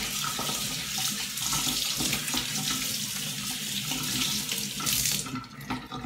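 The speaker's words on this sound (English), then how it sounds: "So let me just wash the brush." Steady running tap water splashing into a sink while a brush used on Red Wing Iron Ranger boots is rinsed under it, a loud continuous rush with no talk.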